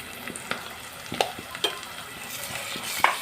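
Ginger garlic paste frying in hot oil for a cluver bean and dried prawn curry, a steady soft sizzle broken by several sharp scrapes and clinks of a stirring spoon against the pan, with no talking.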